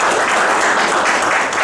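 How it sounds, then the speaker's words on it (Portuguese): An audience at a municipal tribune session in Juquitiba, Brazil, gives dense, continuous applause with many hands clapping at an even loudness and no talking. "Que essas palmas vocês recebam pela grandiosidade que demonstraram aqui hoje."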